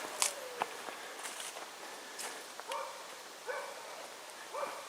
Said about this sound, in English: And you can hear a dog barking off in the distance